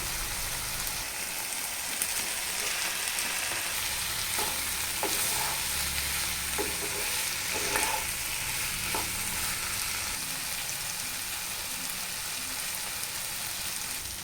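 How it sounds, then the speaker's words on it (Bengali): Soybean chunks frying in a pan with tomato paste and spices, a steady close sizzle with scattered stirring clicks and scrapes throughout, no talk. "এখন সয়াবিনগুলো দিয়ে দেবো"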